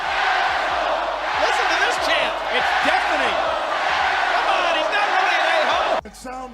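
Wrestling arena crowd booing, a dense, loud, sustained roar of thousands of voices with whoops, cutting off abruptly near the end as a voice begins talking.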